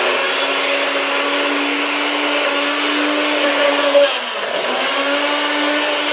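A blender purées strawberries for a coulis, a loud, steady motor whine that runs continuously and dips briefly near the end before resuming.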